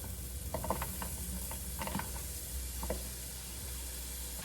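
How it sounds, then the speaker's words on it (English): Cooked, soft potatoes go into a hot cast iron pan, giving a steady low sizzle with scattered scraping and clinking, quiet and close. "I just put in my cooked potatoes"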